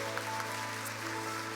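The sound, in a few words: audience applause welcoming a guest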